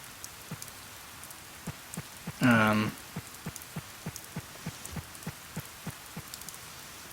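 Rain falling in a farming video game, a soft steady hiss dotted with regular distinct droplet ticks, interrupted by one brief louder tonal game sound partway through.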